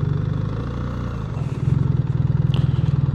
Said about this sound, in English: this low torque engine just grumbles